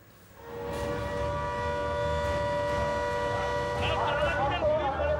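A siren wails continuously with steady tonal bands at a jail in Hooghly, West Bengal, during unrest as inmates set a barrack on fire, accompanied by background commotion and some voices, fairly loud throughout.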